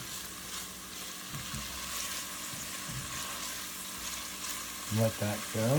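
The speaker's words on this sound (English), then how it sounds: "we want to cook the onion just until it is soft and a little translucent." Onion frying in a Dutch oven, a steady broadband sizzle with occasional stirring scrapes throughout, while a person speaks briefly near the end.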